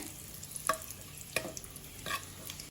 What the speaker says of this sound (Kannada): ಒಗ್ಗರಣೆ ಸಿಡಿತಿದ್ದಾಗೆ